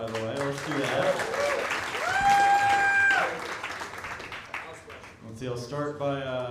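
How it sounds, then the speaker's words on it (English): Applause from a comedy club audience rises under a host's amplified voice, continuous clapping swelling briefly before easing as talk resumes. "Clap for Steven again, by the way."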